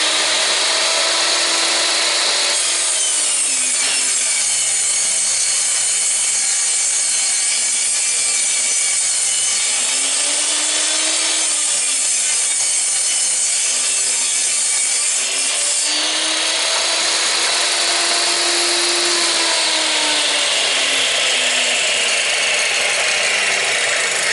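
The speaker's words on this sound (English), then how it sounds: "the first thing we're going to do is cut the boards down to 1 7/8 inches" A power saw cuts wooden boards down to narrow strips for molding, a loud continuous whine with the pitch dipping and rising as each pass bites into the wood, repeated over several cuts.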